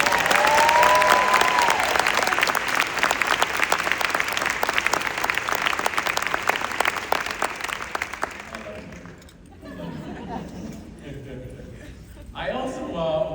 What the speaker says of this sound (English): Can we please give a huge round of applause to Maryland's remarkable First Lady?